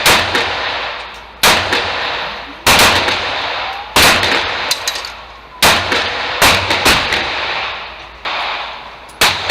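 Rifle shots fired at targets on a range, eight loud sharp cracks spaced about a second apart, each ringing out briefly into a short echoing tail, with no talking.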